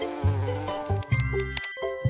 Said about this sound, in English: Bee! Buzz!